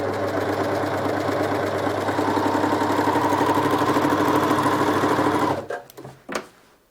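A sewing machine runs steadily while stitching super stretch fabric, a loud continuous mechanical whir for about five seconds before stopping abruptly, followed by a few faint clicks and handling noises.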